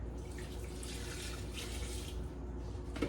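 Water runs from a tap and is poured into a pot while preparing blueberries for canning, a faint, steady trickling splash that continues throughout without speech.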